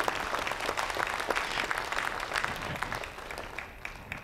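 A church congregation claps hands during a worship service, with dense, lively clapping from many people at close range that gradually thins toward the end.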